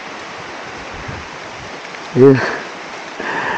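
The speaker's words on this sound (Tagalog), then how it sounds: "Dito umuulan na rin." Rain falls on a mountain road in the Cordillera hills of Apayao, a steady broad hiss throughout, with a brief spoken word partway through.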